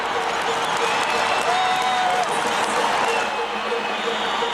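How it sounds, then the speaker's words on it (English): A basketball arena crowd at a Notre Dame at DePaul game at the Rosemont Horizon roars and cheers steadily and loudly throughout, a dense wall of voices with a commentator speaking over it. "And listen to this crowd."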